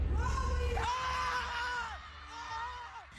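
At the PBB Celebrity Collab Edition big night, a crowd of fans cheers, with long sustained yells and high whoops rising and falling in overlapping waves, close and fairly loud, over a roar of massed voices.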